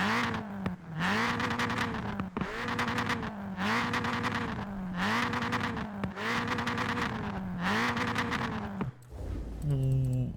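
A Ford Racing Puma in Forza Horizon 4 revs hard through repeated gear changes, each pull rising in pitch then dropping, with a loud rasping exhaust and a short pause before accelerating again.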